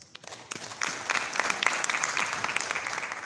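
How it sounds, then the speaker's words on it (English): Brief burst of audience applause at a memorial lecture for the speakers who stood and spoke, clapping swelling up from quiet and continuing steadily. "I want to give them a round of applause"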